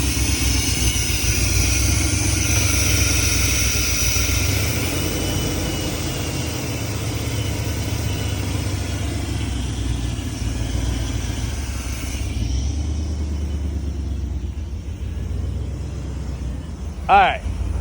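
A Chevy truck engine with a leaking EGR valve runs at a steady, rough idle, close by, while someone talks over it. The engine noise drops lower near the end, and a brief sharp noise follows.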